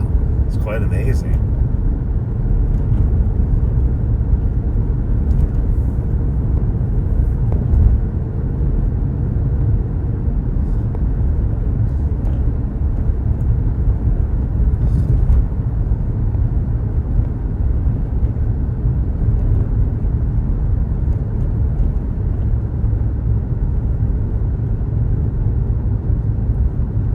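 A lone car drives through a Pittsburgh tunnel, its engine and tire roar a steady, enclosed low rumble for the whole stretch, loud and unbroken.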